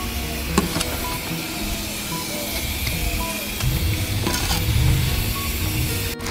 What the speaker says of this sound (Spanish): Vamos a integrar todo lo que es chile, tomate, cebolla y el aguacate